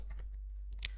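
A few crisp computer keyboard keystrokes as code is typed, close and moderately loud, spaced irregularly across a brief second with a quiet gap between the early and late taps.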